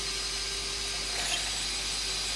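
A G5 drill jig cutting a 16mm counterbore: a steady, dense whirring grind with a low hum underneath, unbroken and close for the whole moment, with no talking.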